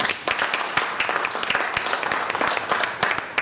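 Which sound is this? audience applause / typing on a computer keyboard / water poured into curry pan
audience applause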